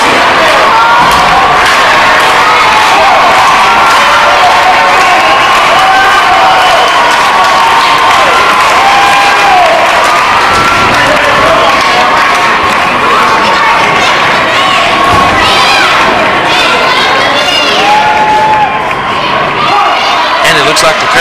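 A wrestling crowd at a bout between American G I and Kid Kash roars steadily with cheering, shouting and scattered applause. The noise is loud and continuous for the whole stretch, with commentary mixed in beneath it.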